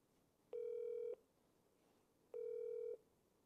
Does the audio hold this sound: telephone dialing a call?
yes